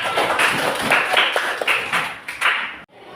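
A class of primary schoolchildren claps their hands together, a dense burst of close clapping with a few sharper, louder claps standing out before the sound cuts off abruptly near the end.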